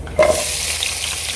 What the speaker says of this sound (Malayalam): സവാളയും കൂടി ഒന്ന് ആഡ് ചെയ്ത് കൊടുത്ത് നമ്മൾ ശരിക്കൊന്ന് മൊരിഞ്ഞ് വരണം